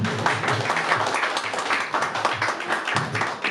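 An audience at a Sunday feast program claps together, a sustained patter of many hands that carries on evenly from start to finish with no voices over it.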